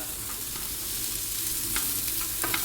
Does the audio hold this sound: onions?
yes